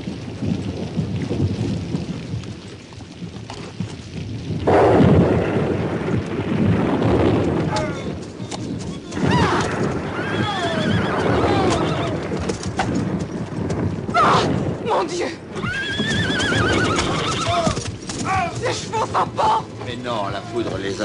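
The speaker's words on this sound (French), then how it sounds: "Leur carrosse fut pris dans un violent orage." Horse-drawn carriage caught in a violent thunderstorm, with rain and thunder rumbling throughout and hoof clip-clop under the storm, loud and continuous, with voices speaking over it.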